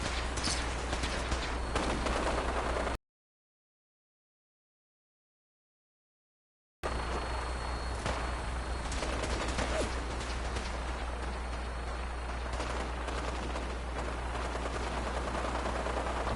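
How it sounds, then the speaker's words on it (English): Continuous gunfire from a battle in the video game Fallout 4, rattling bursts and scattered shots spread across the clip. A stretch of dead silence breaks it partway through. "you guys have fun shooting each other"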